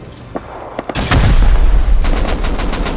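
Gunfire in a Rust raid defense: a few faint shots, then from about one second a loud sustained burst of rapid automatic fire with repeated sharp cracks continuing to the end.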